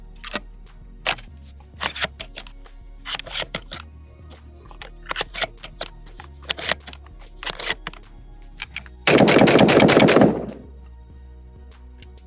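Panzer M4 semi-auto budget shotgun fired outdoors, a series of loud sharp shots spaced irregularly over several seconds, ending in a dense burst of rapid blasts near the end.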